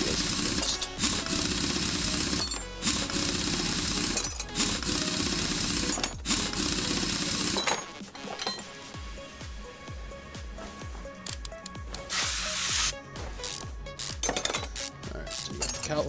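Metallic clinks and clanks from brake discs being pulled off a car in Car Mechanic Simulator 2021, sharp repeated knocks over a steady loud tool-like drone that gives way to scattered lighter clatter.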